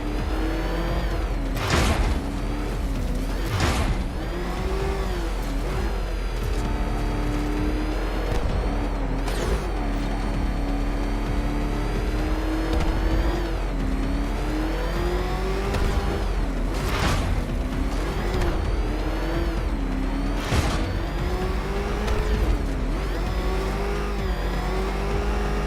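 The Batmobile's engine in the video game Batman: Arkham Knight, revving and driving continuously and close, with repeated sharp surges and bangs over a steady roar and no talking.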